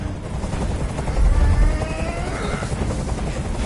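A video game helicopter's rotor thumps in a fast, steady rhythm, loud and close, as it hovers, with a slight surge in the middle.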